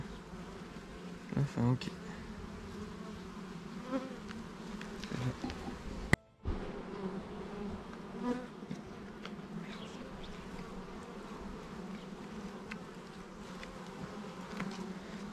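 A steady, close swarm of black honey bees buzzing at the hive in a continuous drone, with a brief pause midway and a few quiet words spoken.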